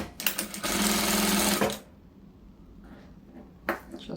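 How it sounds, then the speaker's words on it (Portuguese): Sewing machine stitching folded old jeans fabric, a close continuous whirring run of about a second and a half followed by quiet, then a short final burst. "E vou costurar."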